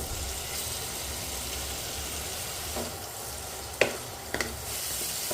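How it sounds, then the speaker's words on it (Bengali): Chopped chicken seasoned with salt and pepper being stirred into sizzling minced garlic in a pan, a steady quiet fry broken by a few sharp clinks of the spatula near the end, no talking. "চিকেনটাকে দিয়ে একটু ভালো করে নাড়াচাড়া করে নিলাম।"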